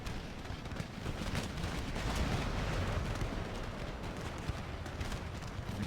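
Artillery fire on a battlefield in Empire: Total War, heard as a steady, distant roar of booms and gunfire blending into a continuous rumble, fairly quiet, with no talking.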